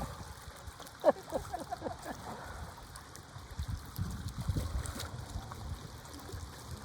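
Water laps and splashes around a small boat on open water, a steady close wash with gurgles and irregular slaps, with a faint knock early on.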